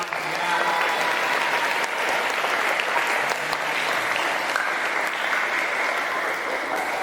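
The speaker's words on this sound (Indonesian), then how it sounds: "Tepuk tangan dulu teman-teman." Audience applause during a presentation about a historic hospital doctor; a dense, steady roar of many people clapping together, loud and even from start to finish with no pauses.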